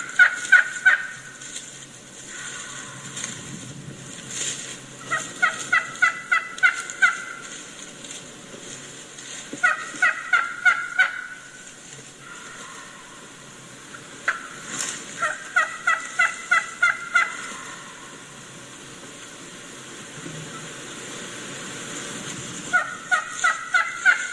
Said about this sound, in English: here's another hen who just left the gobbler not long ago, and she's just telling the gobbler that I'm here